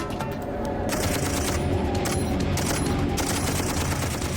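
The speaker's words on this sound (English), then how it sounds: "So they turn to the squad's M60 heavy machine gun." An M60 heavy machine gun fires in long sustained bursts of rapid, loud shots, dense and continuous with layered battle noise, in a Black Hawk Down combat setting.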